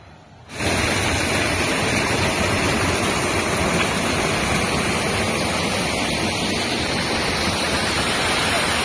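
A waterfall roars in a loud, dense, unbroken wash of rushing water that starts abruptly after a brief quieter moment, then holds steady and close to the end.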